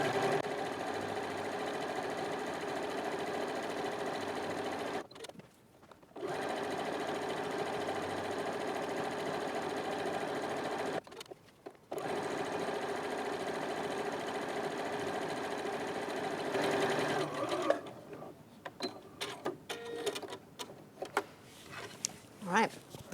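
A sewing machine stitches tote bag handles in long steady whirring runs, pausing briefly twice, then giving way to shorter bursts and handling noises near the end; a person talks in places.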